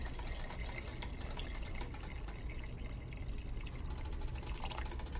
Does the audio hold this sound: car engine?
no